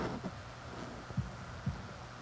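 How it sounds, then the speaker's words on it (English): A faint, slow heartbeat from the Katawa Shoujo video game thuds low under a steady hum, with about three soft, evenly spaced beats in a short stretch. "holding my breath in an attempt to hear my heartbeat"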